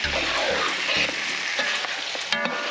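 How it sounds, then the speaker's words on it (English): Close, steady sizzling of oxtail on a hot outdoor grill made from a tire iron, with a few soft clanks and scraping sounds mixed in. "you can just hear that sizzling"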